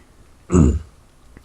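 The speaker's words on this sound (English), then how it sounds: "I'm coughing a lot" A single short cough or throat-clearing, close and fairly loud, with faint quiet moments before and after.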